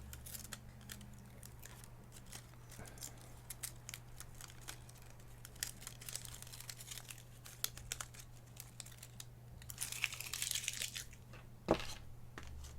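Protective plastic film on a custom macropad crinkling and peeling in quiet, close bursts over a steady low hum, with a louder stretch of crackling near the end and no talk.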